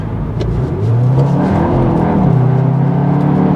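A Cupra Leon FWD hot hatch engine revs hard as it kicks down to second gear, a loud, steady mid-pitched roar that climbs in pitch with no talk over it.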